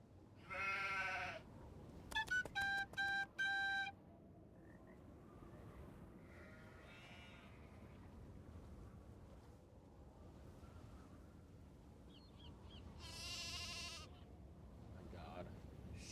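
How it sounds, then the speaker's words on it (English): Sheep bleat in short wavering cries in the video game Nancy Drew: The Haunting of Castle Malloy, one near the start and another later, amid a rapid electronic beeping and a low background murmur. "My God, sheep noises."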